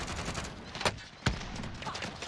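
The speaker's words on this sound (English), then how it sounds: "now they're shooting at us" Enemy gunfire in the video game Call of Duty: Warzone, a run of quick, faint shots with two sharper cracks standing out, somewhat distant.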